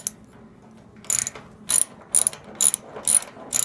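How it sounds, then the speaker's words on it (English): A ratchet fitted with an S2 square bit removes screws from a Frigidaire top-load washing machine, giving six sharp, close clicking bursts in a quickening rhythm after a quiet start. "Okay, using a ratchet."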